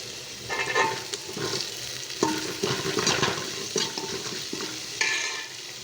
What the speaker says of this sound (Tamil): வெங்காயம் வரமிளகாயை போட்டுறோம் போட்டு கருவேப்பிலையை போடுறோம்